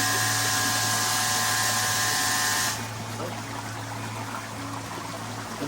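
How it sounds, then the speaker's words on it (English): A pond filter runs while air bubbles rise through the water, giving a loud, steady hissing burble for about three seconds before it drops to a softer, continuous trickle and bubbling. "That's the actual filter working now, look."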